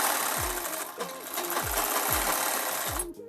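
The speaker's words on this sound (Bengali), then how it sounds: "তো সেলাই করে নিচ্ছি আমি এটাতে" A sewing machine stitches lace onto a blouse, its needle running in steady rapid bursts with rhythmic low thumps roughly every half second, close and loud, stopping briefly near the end.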